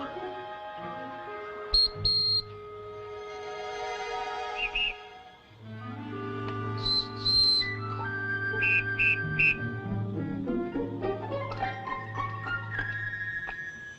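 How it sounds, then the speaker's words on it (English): Short, shrill notes from an eagle wing-bone whistle sound in brief bursts over a sustained musical background of low tones. "Whistle made from wing bone of eagle."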